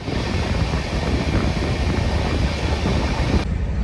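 A night passenger train running from Sealdah to Parasnath gives a steady, loud rolling rumble with a constant windy hiss, continuous throughout and with no voices.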